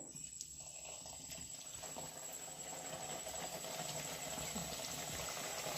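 Paneer samosas frying one by one in a pan of about 300 grams of hot oil, giving a steady, fairly loud broadband sizzle and hiss that holds throughout.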